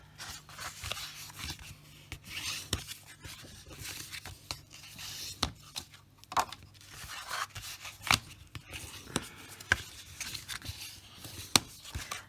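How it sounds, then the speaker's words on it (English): Card stock is folded along score lines with a bone folder, producing crisp creases, scrapes and sharp taps at irregular intervals, close and quiet with no speech. "Get your bone folder. Fold on both those score lines."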